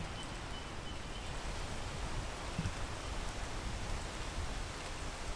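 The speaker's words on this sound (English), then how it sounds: "Oh, please stop raining." Steady rain patters continuously in the mountain-climbing video game PEAK, a soft, even hiss of falling water with no talk over it.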